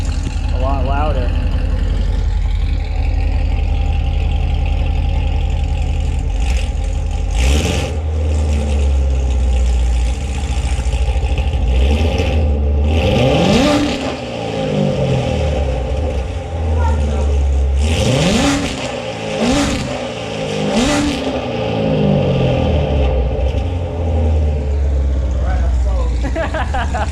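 A car engine fitted with newly installed ARH headers, revving repeatedly in a garage, rising and falling several times over a steady loud idle rumble, with people talking close by.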